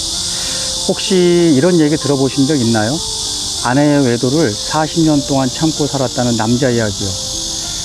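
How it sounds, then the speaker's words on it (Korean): Cicadas sing outdoors in a continuous, loud, high-pitched drone that never lets up, while a person talks steadily over it. "매미 소리 때문에 잘 들리실지 모르겠지만"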